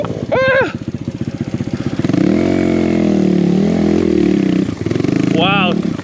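A big-bore Kawasaki KLX140RF dirt bike revs on a slippery, rocky trail; the engine climbs hard and holds a steady, buzzing drone close by, with a brief whine of revs at the start and again near the end.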